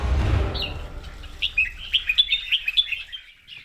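After a low rumble fades, a red-whiskered bulbul delivers a lively series of bright, liquid chirping phrases, fairly close and clear with no talking.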